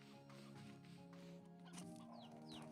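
Chickens cluck in the video game Slime Rancher 2, several birds close by with repeated clucks and a couple of rising squawks near the end, over a low steady background tone.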